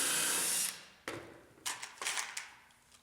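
Cordless screwdriver or drill driving screws into plywood door bucks, a loud whir that stops, then several short bursts of motor whine with pauses between.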